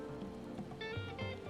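Glass rain weather in a video game on the planet Phaenna, a steady close hiss of rain pattering on surfaces with faint tonal chimes ringing through it, continuous and without speech.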